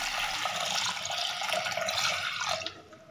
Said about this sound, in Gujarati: હવે મગ બફાય તેટલું પાણી નાખી